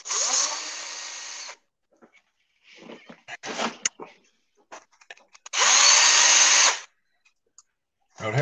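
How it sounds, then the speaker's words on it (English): A small corner being ground off a part during wrenching on a carburetor setup: two long, loud bursts of power-tool grinding, separated by a stretch of clattering and handling noises, with a third burst starting at the end. "let me grind this little corner off a little bit"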